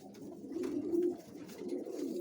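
Pigeons in a closed loft cell coo and squabble, soft low throaty coos rising and falling in quick, quiet bursts at close range.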